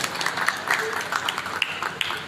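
Audience at a traders' association meeting in Nilokheri clapping; a moderate, uneven patter of applause with some sharper individual claps, fairly close, lasting a couple of seconds.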